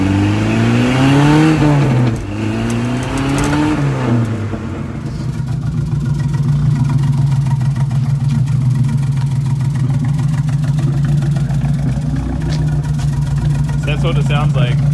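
Toyota Hilux with a custom exhaust, someone talking over the running engine at first, then a deep steady idle with a low throaty drone and slight rises in revs, close and loud.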